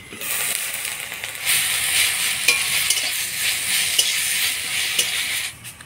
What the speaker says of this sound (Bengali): কচু পাতাটা আমি ভালো করে ভাজা ভাজা করে নিলাম।